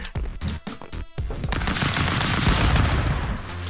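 Gunfire in the Stick Fight video game: a few sharp shots followed by a dense, sustained burst of loud rapid fire that continues to the end.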